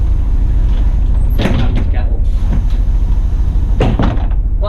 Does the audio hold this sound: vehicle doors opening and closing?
yes